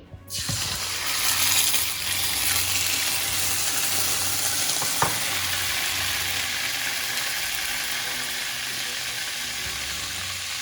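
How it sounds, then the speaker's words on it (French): Tomato sauce hits hot oil in a pan for a homemade rice-and-vegetable meal, bursting into a loud, broad sizzle that settles into a steady hiss with a faint clink partway through. "une fois que mon huile est bien chauffée, je mets ma sauce, mes ingrédients, donc ma tomate que j'ai mélangée"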